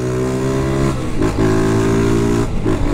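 A Honda Start 160 motorcycle with a new exhaust revs loud and close, holding steady engine tones that dip and climb in two throttle blips.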